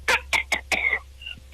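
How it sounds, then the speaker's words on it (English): A single person's cough, a quick series of four or five sharp barks ending in a short rasp, fairly close and alone without talk. "we know you had a cough there"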